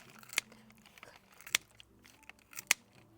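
Kitchen scissors snip through salmon bones, three sharp, distinct crunching cuts spaced about a second apart, close and clear against a quiet room.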